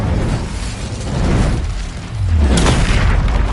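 An Incendio spell is cast in Hogwarts Legacy: a loud whooshing, booming burst swells, dips briefly, then surges again into a deep, roaring blast.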